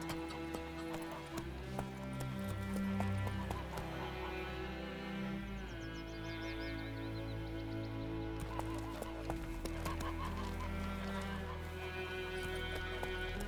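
Roach, Geralt's horse in The Witcher 3: Wild Hunt, clip-clops with steady hooves and gives an occasional whinny. Rumbling game music and ambience play underneath.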